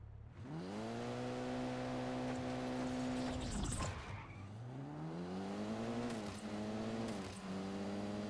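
A 2002 Subaru WRX engine on a video-game test drive revs up loud and holds high, drops with a gear shift, then climbs again through further shifts, with no talk over it.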